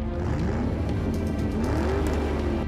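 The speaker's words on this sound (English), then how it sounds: "as their target Daphne sits in a car and turns on the ignition." A car engine runs steadily with a rising revving tone as the vehicle pulls away, loud and close, with no talk over it.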